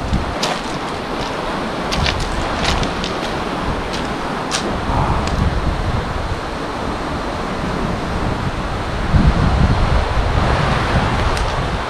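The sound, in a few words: rough sea waves and wind at the shore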